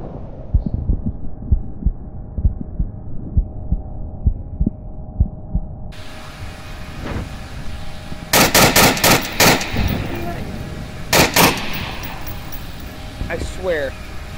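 Gunfire in the VR shooter Onward arrives as several loud bursts of automatic fire in the second half, after a stretch of quiet footsteps and ambient hum.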